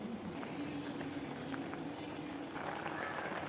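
A pot of kovakkai kulambu, an ivy gourd curry with chilli powder, boils steadily with a constant dense bubbling and popping, close and even throughout.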